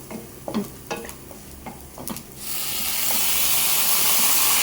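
Turmeric hits onions frying in a pan: a few light clicks and taps of a small spoon, then a sudden loud, steady broadband sizzle that swells and holds to the end.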